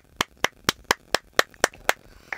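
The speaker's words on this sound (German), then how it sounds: "Und mit einem minutenlangen Klatschkonzert verabschiede ich uns jetzt in die nächste Pause." A podcast closes with clapping: about nine sharp hand claps in a steady, slightly uneven rhythm, close and fairly loud, with no talking.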